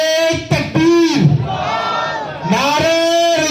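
A crowd at a religious gathering roars back in unison after a Takbeer slogan, a loud, sustained collective chant with rising and falling swells, answered in two waves close and full.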